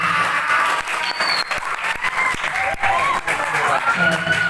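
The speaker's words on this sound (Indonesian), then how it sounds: "Tepuk tangan untuk 3 penanya" Clapping from an audience at a literacy event in Madura rings out for three questioners, a full continuous round of applause with some crowd noise and voices underneath.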